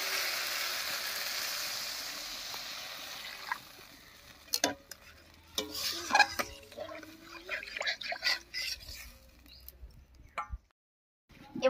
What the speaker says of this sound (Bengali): এবারে ঝোলের জন্য জল দেবো।